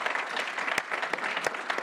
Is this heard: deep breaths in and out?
no